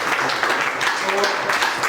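Applause from the audience at a business leaders' meeting, a steady wash of clapping lasting the whole moment, moderately loud, with a voice speaking over it.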